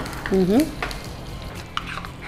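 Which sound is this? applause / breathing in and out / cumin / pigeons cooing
cumin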